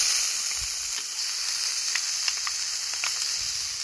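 Garlic and ginger sizzle in a hot pan over a Kadai firebowl, a steady bright frying hiss with a few light stirring clicks, close and continuous with no talking.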